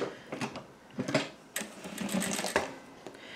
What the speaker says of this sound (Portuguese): Vamos costurar agora fazendo o retângulo